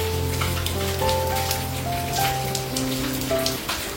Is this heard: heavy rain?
yes